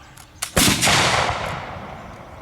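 A volley of muskets and rifles goes off together at a militia encampment firing demonstration, a single loud ragged blast with scattered lead-in cracks, followed by a long fading echo outdoors.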